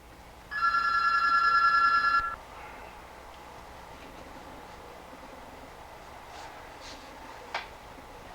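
A telephone rings with a steady electronic trill for about two seconds, loud and close, then cuts off, leaving quiet room noise with a few faint clicks.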